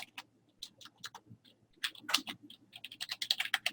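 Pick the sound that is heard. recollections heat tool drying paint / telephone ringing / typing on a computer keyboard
typing on a computer keyboard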